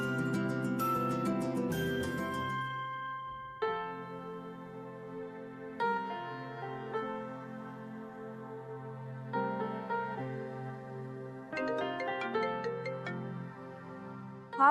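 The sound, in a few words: phone ringing during a call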